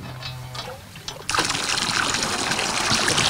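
Tap water begins to gush after a quiet second, a loud, steady splashing trickle at a spot where people displaced from Kramatorsk now collect their water, filling the rest of the clip at close range.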